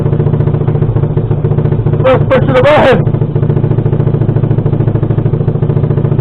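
A cheap Chinese 110cc quad bike engine cranks and catches immediately without choke, then settles into a steady, even idle; someone talks throughout over the putter.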